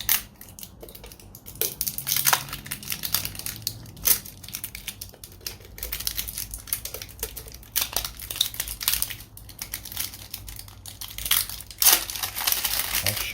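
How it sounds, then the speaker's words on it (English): Plastic wrap crinkles and crackles as it is pulled off a motorcycle oil filter for a 1998 Harley-Davidson Wide Glide, a steady close stream of crumpling and tearing with brief pauses throughout. "I'm going to pop the plastic off this oil filter."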